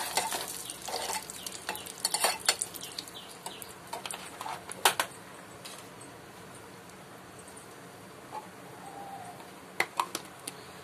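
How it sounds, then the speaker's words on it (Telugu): Cashews fry in hot ghee with a quiet sizzle under repeated light scraping and clinks from a spoon against the pan, busier at the start and sparser later. "నెయ్యి బాగా హీట్ అయిన తర్వాత కొన్ని జీడిపప్పు వేసి దూరగా వేగనివ్వండి."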